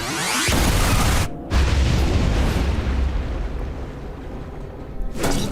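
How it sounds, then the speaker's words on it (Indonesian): A loud, sustained blast roars through a cartoon action scene, a heavy rumbling explosion with a brief cut in the middle before the booming continues and fades. "Sebentar lagi tempat ini akan meledak."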